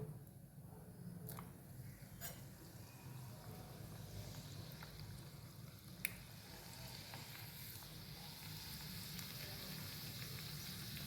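Sabudana and potato chakli deep frying in hot oil give a steady, soft, fairly faint sizzle throughout, with a few sharp pops and crackles scattered across it and no talking.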